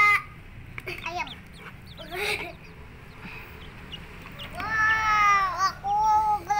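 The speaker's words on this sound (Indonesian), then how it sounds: "Anak ayamnya makan" Chickens and chicks cluck and peep near a riverside, with short bursts of clucking and a longer rising call near the end, mixed with children's voices.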